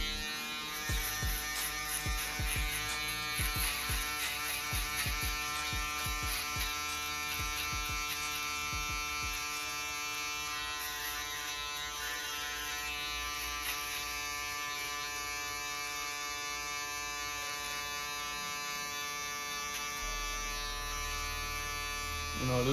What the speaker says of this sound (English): we're gonna come in with the shaver. Basically, we're gonna shave all the stubble up to right here